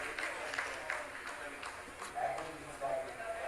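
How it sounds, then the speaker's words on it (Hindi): Applause from scientists in a control room after the Chandrayaan-3 landing rolls on steadily, a dense patter of many hands clapping at moderate volume. "आप इस तालियों के गड़गड़ाहट को सुन सकते हैं"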